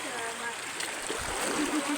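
A strong stream of clear water rushes and splashes continuously nearby, a steady dense wash of sound with small surges and ripples.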